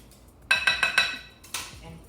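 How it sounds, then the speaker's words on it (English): A whisk or utensil clinks against a bowl while mixing a salt, black pepper, red pepper flake and olive oil marinade, five quick separate taps in two bursts, close and clear. "Whisk all together"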